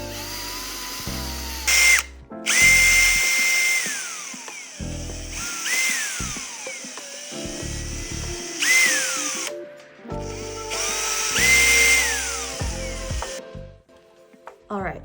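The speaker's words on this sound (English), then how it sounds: "all of our holes are drilled for our stars" A power drill whines up in bursts as it drills holes into a pumpkin, several separate runs of high spinning pitch with short pauses and handling noises between them, close by.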